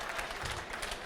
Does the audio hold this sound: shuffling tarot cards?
no